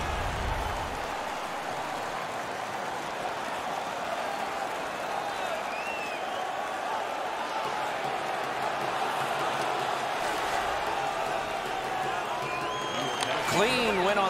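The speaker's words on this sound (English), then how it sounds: "The home crowd is ecstatic." A home crowd cheers in the NHL 16 ice hockey video game, a steady, moderately faint arena roar that holds throughout with a few sharper effects near the end.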